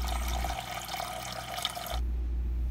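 Water pours steadily into a cooking pot, about 1.5 liters filling it in a continuous splashing stream that runs for around two seconds before cutting off, close and fairly loud.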